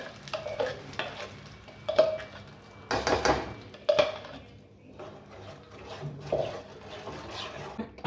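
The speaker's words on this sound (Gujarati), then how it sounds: "ગરમ થઈ ગયું છે આપણે તેની અંદર ગ્રેવી એડ કરી દઈએ" Gravy for matar paneer hits a hot pan, giving a soft sizzle broken by irregular stirring scrapes and light clinks of a utensil against the pan.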